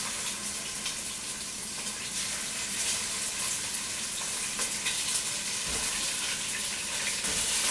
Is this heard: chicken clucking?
no